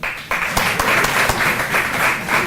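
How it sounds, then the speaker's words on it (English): A keynote audience at IIT (BHU) Varanasi's E-Summit breaks into a dense, steady round of applause, loud and close, filling the whole stretch without talk. "give a round of applause first"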